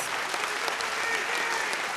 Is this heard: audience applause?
yes